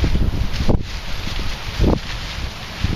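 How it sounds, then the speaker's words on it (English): Wind gusting outdoors in Charlotte, a steady broadband rush with low rumbling buffets against the microphone, swelling briefly in a couple of stronger gusts. "It's a little windy here today"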